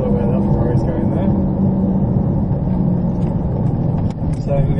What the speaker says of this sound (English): Let me hear that engine.